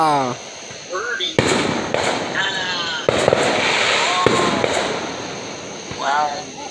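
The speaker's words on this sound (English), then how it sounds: "You hear people shooting them darn fireworks." Fireworks and firecrackers go off outdoors during an Independence Day celebration, with sharp loud bangs and crackling bursts repeating at irregular intervals over steady crackle, while people exclaim and talk throughout.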